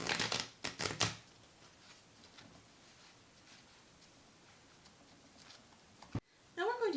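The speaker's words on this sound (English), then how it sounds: "Then I shuffle again with the specific intent of what I want the cards to tell me" A quick burst of tarot cards being shuffled close up, riffling flutters in the first second, then quiet with faint rustling and a brief voice at the end.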